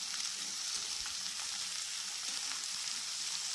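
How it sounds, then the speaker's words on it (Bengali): Vegetables sautéing for a curry hiss quietly and evenly in the pan, a soft steady sizzle with faint stirring, heard from a little distance and without talking. "তরকারিটাকে সবজিগুলোকে ভালো করে কষিয়ে নিতে হবে।"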